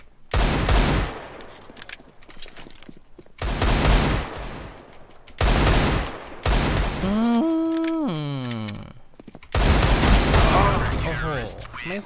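Gunfire in Counter-Strike: Global Offensive comes as several loud bursts of automatic fire, each lasting a second or two and separated by short gaps, with a tonal game sound sweeping between bursts and a voice talking in places.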